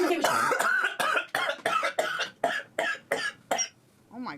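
A man's laughter breaks into a string of sharp, rhythmic coughs, about nine bursts in quick succession close to the microphone, followed by a short vocal sound at the end.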